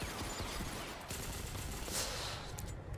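Dense, continuous gunfire from rapid automatic weapons in the online shooter Ghost Recon Phantoms, loud and sustained for a few seconds with no talking.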